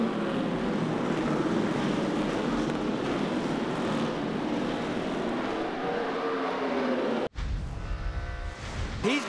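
NASCAR stock cars at Martinsville roaring into turn 1 together, a dense continuous engine roar from a pack of cars with crowd noise beneath, cutting abruptly near the end to a different closer engine sound.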